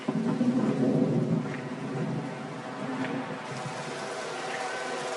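Steady rain with rolling thunder rumbling through a football video game match, loudest at the start and then settling into a constant wash of rainfall with faint distant booms.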